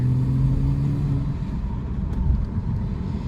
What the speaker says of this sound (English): Give it a little bit of gas there.